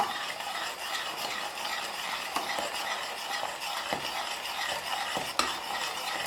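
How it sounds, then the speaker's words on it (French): A spoon is stirred steadily through a thick, purée-like protein snack mixture in a pan, giving a faint, continuous scraping and soft sizzle with occasional light clinks, alone and without talk. "on touille, on touille, on touille, on ne s'arrête pas"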